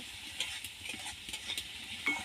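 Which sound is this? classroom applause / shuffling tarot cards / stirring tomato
stirring tomato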